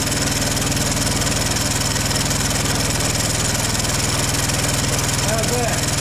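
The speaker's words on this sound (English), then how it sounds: "Honda Big Red, 1984. She's smoking, but she's running. She's running on her own." A 1984 Honda Big Red ATC 200es three-wheeler, abandoned and now smoking but running on its own, idles with a steady, even engine drone that holds at constant loudness throughout.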